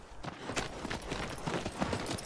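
Horse hooves clip-clopping in the video game Shadow of the Colossus, a steady run of quick, fairly near hoofbeats over a noisy background.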